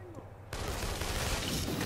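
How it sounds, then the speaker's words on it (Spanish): Gunfire from the video game Infamous Second Son bursts in as a dense, loud barrage after a quieter start, sustained and rattling with no clear individual shots, layered with game noise. "Vale, he oído disparos."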